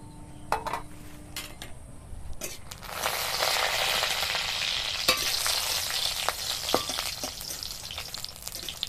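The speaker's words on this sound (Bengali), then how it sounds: "তেলটা গরম হয়ে গেছে, এবার দিয়ে দিচ্ছি শুকনো লঙ্কা।" Dried red chillies frying in hot mustard oil in a wok, a steady crackling sizzle that rises sharply when they hit the oil and holds on with scattered pops and utensil clicks, no voices.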